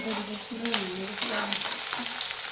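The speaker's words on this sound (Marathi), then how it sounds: "चांगलं खरपूस तळू द्यायचा" Green banana vegetable frying in a pan until crisp, a steady close sizzle with a few stirring scrapes, no voices.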